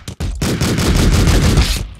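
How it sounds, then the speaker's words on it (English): Gunfire in the video game Streets of Rogue, played as a Ballistic Soldier: a short click, then a loud, rapid burst of shots rattling steadily for about a second and a half before cutting off. "I guess I accidentally shot him"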